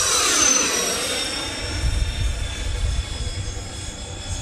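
An RC F-14 model jet makes a low pass with its gear down, a steady nearby turbine whine and rushing roar that swells early and then holds fairly constant, with a high tonal whistle running through it.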